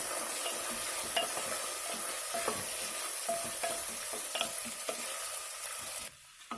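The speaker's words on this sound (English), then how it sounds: "Now let's mix the rice." Basmati rice is stirred into fried jeera and red chilies in a pan, giving a loud continuous sizzle with scraping and clinking stir strokes, which drops suddenly near the end; no one speaks.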